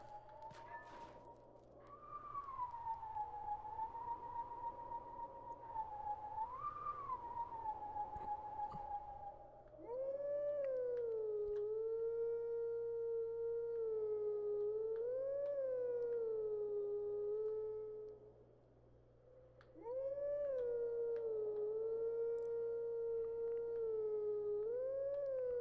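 A Howling Stone in The Legend of Zelda: Twilight Princess HD sounds a long, wavering, wolf-like howling melody in three sustained phrases separated by short pauses, over a low steady hum.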